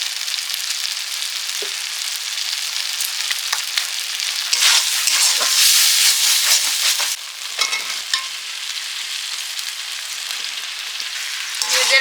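Masala sizzles steadily in a pan as water and sugar go in, with a continuous bright frying hiss, occasional scraping stir strokes, and a louder burst of spitting midway before settling back to an even sizzle.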